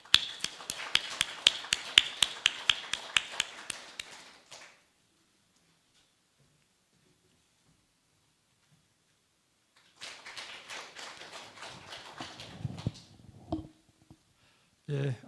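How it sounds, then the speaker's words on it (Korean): Audience clapping at a science and technology seminar welcoming a vice minister to the stage, with sharp individual claps standing out in a first burst that fades, then silence, then a second, quieter round of applause mixed with stage noises. "용홍택 차관님을 큰 박수로 환영해 주시기 바랍니다."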